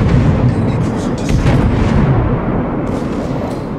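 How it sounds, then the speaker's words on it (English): A warship, the Duke, fires a full gun salvo in World of Warships, a loud, dense roar of overlapping heavy booms that rumbles on for several seconds as one broad wall of sound. "fired another full salvo"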